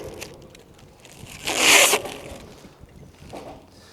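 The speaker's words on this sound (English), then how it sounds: "So for this I'm going to actually peel my plastic back." Protective plastic film is peeled back from metal shed flashing, giving one loud, close crackling rip that lasts about half a second. It is followed by a few quieter rustles.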